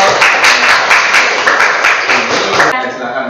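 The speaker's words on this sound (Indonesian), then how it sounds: "Tepuk tangan dulu dong." Students clapping together in a classroom, a dense, loud burst of applause with rapid overlapping claps and voices mixed in, fading out near the end.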